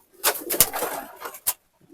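Pigeons coo and rustle inside a cage, a few soft throaty calls with brief flutters, close and moderately loud, ending in near silence.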